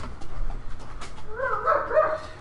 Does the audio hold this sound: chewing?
no